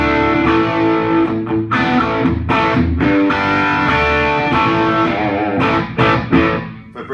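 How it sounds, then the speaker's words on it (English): An electric guitar played through an Analogman Prince of Tone overdrive pedal, tone turned all the way down, chords ringing out thick and gritty, loud and sustained, with a few changes and no voices. "I've got the pedal set up in the overdrive sound"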